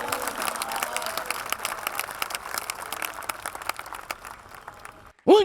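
A congregation at a Hindi Christian service claps in thanks to God, a busy patter of many hands that thins out before a voice abruptly breaks in at the end.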